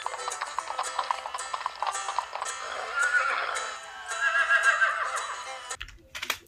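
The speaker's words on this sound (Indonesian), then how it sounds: "di sini kita menemukan kuda" A horse in a video game neighs twice in long, shrill whinnies over steady clip-clopping hooves, fairly loud and close, with a low thump at the end.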